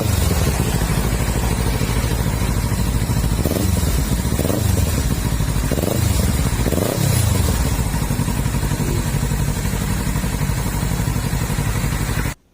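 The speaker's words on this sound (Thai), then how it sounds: "ฟังเสียงเครื่องยนต์กันครับ" Loud, close engine of a 2017 Kawasaki Ninja 300 with 13,200 km being revved at a used-bike shop by a road: a steady rumble broken by several quick throttle blips in the middle, then an abrupt stop.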